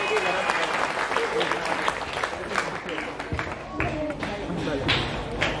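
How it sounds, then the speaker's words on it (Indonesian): An audience at a talk show about Islamic boarding-school students claps in a lively, uneven burst, with occasional thumps and crowd noise and a voice speaking over the applause. "Tepuk tangan untuk kita semua."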